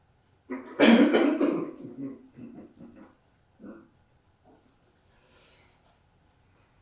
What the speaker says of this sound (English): I'll try to clear my throat.